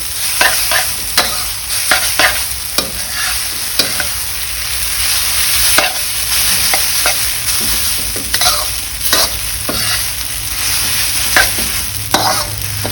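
Mee sua noodles being stir-fried in a pan, a steady bright sizzle under repeated scraping and clacking strokes of a spatula at an irregular rhythm, close and fairly loud, with no voices.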